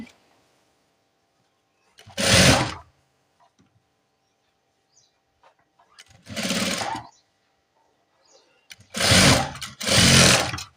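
A sewing machine stitching a nurse uniform top in four short bursts of loud, close whirring, separated by near silence with faint handling sounds.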